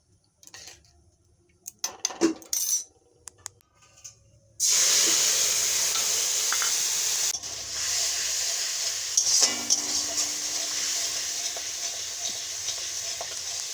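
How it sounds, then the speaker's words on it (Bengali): Turmeric, chilli, cumin and garam masala sizzling in hot oil in a pan, with fried potatoes nearby: sparse clinks and scrapes at first, then a sudden loud steady hiss that carries on continuously with occasional stirring scrapes. "এখানে মশলা কষা হয়ে গেছে"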